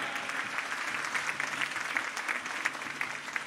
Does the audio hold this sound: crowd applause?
yes